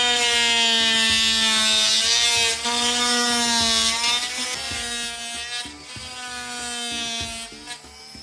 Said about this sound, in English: I'll also use this same blade to plunge cut right through this drywall.